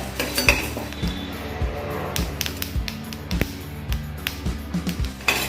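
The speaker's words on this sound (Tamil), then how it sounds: "எள்ளு நல்லா பொரிஞ்சு வருது பாருங்கள்" Sesame seeds roast in a pan on a stove for temple-style puliyodharai, giving off close, busy crackling and popping along with repeated metallic scrapes and taps of a spoon stirring against the pan.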